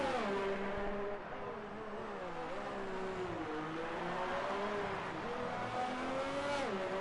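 Race car engine in F1 2019 on the Singapore circuit, a loud, high, whining drone that dips and rises as the car brakes and accelerates, running continuously with no talking.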